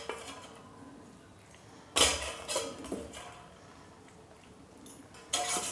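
Boiled spinach being tipped into a mixer-grinder jar in a home kitchen, heard as a few sharp clinks and knocks of the jar and spoon against a quiet background.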